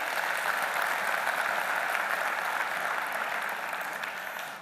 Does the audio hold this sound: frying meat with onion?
no